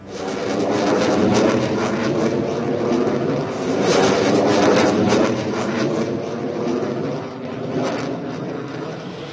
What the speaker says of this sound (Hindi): राफेल जगुआर का टचडाउन, जंग के लिए वायुवीर तैयार।